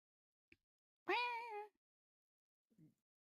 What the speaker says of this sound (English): Oh, the kitty. The kitty's yapping.